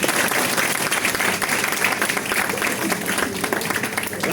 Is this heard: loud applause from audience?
yes